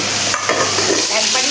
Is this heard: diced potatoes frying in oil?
yes